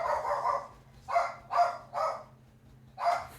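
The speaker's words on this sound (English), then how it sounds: "You've got a dog barking." A dog barks in several sharp bursts, close by and fairly loud, with short gaps between barks over a low steady hum.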